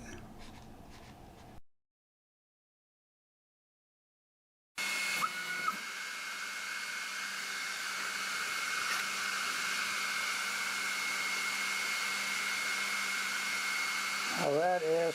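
An Ortur Laser Master 3 engraving wood, its cooling fan producing a steady hiss and whir that grows slightly louder over about ten seconds, after a brief silent gap, with faint talk at the start.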